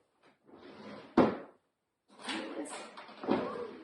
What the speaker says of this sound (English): I'll just get it out of my drawer